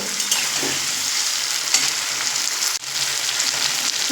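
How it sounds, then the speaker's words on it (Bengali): Potatoes with chopped tomato and chili powder sautéing on a medium flame, a steady close sizzle of frying with occasional stirring scrapes and a brief dip midway, no voices. "দু থেকে তিন মিনিট মতো মিডিয়াম ফ্লেমে আলুর সঙ্গে খুব সুন্দর করে কষিয়ে নেব"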